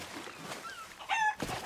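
A chicken in the pirate video game Sea of Thieves gives a short burst of bright clucks over quiet game ambience.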